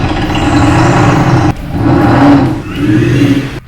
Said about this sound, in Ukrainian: ця система перетворює оберти двигуна на звук вихлопної системи